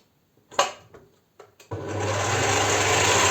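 An electric mixer kneading Easter paska bread dough, starting after a few knocks and bumps and then whirring into a steady loud motor drone that continues to the end.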